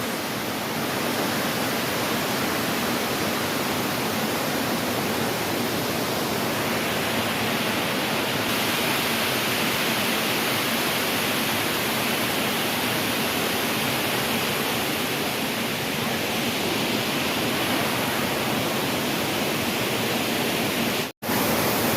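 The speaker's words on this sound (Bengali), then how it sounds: "দেখুন বন্ধুরা প্রচণ্ড বেগে ঝর্ণা আওয়াজ করতে করতে নিজের গতিতে নিজের দিকে মেরে চলেছে" A roaring waterfall at Elephant Falls near Shillong pours in a loud, steady broadband rush that fills the whole span without pause, close and dominant, with a brief dropout near the end.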